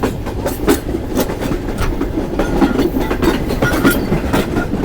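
The Shalimar Express runs through Kacha Khuh station at over 50, a loud, steady rush of wheels and rapid clickety-clack on the rails, with no voices.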